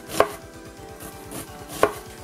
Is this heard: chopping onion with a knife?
yes